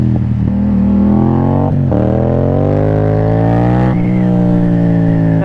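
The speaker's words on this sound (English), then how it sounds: "When you downshift too, you also get a really cool sound from your engine" A motorcycle engine roars loudly and close, revs dropping then climbing again twice as it shifts down through gears.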